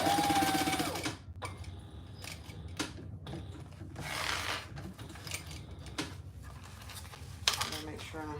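A sewing machine bastes around the edges of a quilt in short bursts broken by pauses, with fabric rustling and small clinks of tools being handled.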